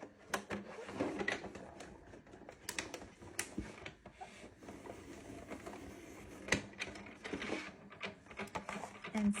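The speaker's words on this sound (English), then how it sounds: "Here's my Sizzix Big Shot Plus." A Sizzix Big Shot Plus die-cutting machine rolls felt through its rollers, giving a steady, close mechanical crank-and-grind with repeated clicks and short clunks over about nine seconds, with no talking.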